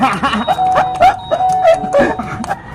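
A doorbell is pressed over and over in a playful prank at a neighbour's house, giving a string of bright electronic chimes in quick succession. The chimes are close and loud, with faint voices underneath.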